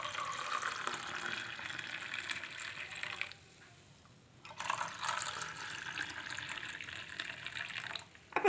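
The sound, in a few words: hot water being poured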